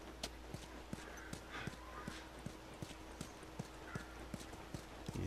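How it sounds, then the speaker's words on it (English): Video game horse hooves in The Last of Us Remastered: steady clip-clop at an even walking rhythm, fairly faint, with a low ambient hum underneath and no talking. "I need that horse to get over the barricade."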